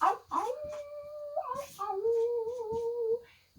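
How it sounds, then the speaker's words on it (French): Several dogs howl together in long, wavering, rising and falling tones that sound almost like singing, close and fairly loud, with short yips and whimpers between the drawn-out notes. "des belles voix de chien bien chantées"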